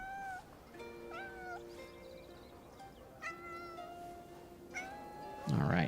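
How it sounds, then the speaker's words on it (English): A tuxedo cat meows repeatedly at close range, several drawn-out, rising cries in an uneven rhythm over a steady background hum, ending with a brief loud rustle. "Look at that tuxedo cat."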